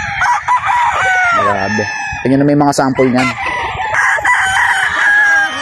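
Roosters crow repeatedly at a game farm, several loud harmonic calls overlapping, with someone talking over them in Filipino and continuous background clucking from a yard full of chickens.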